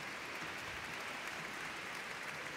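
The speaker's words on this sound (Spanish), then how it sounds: "damos un aplauso" Audience applause for Italian musicians at a symphonic catechetical celebration concert in Soria, a steady dense roar of clapping that stays even and unbroken from start to end.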